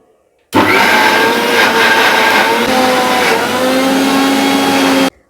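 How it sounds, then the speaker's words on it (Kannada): A mixer grinder whirs steadily as it grinds chopped coconut with a little water, loud and close, starting abruptly and running evenly for about five seconds before cutting off. "ಅದಕ್ಕೆ ಸ್ವಲ್ಪ ನೀರು ಮಿಕ್ಸ್ ಮಾಡಿ ಈಗ ಮತ್ತೆ ಗರ್ರ ಅನ್ಸತ್ತಾರ."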